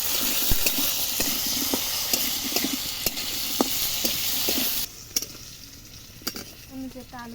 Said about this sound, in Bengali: মাংসের আলুটা আমরা খুব ভালোভাবে লাল লাল করে ভেজে নিচ্ছি